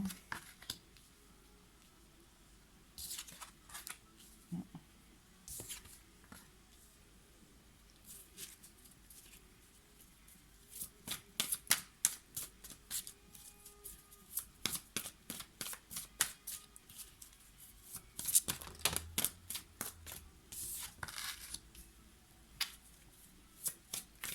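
Tarot cards being shuffled for a reading, giving bursts of riffling and flicking card noises at an irregular pace, close up, with quiet pauses between handfuls.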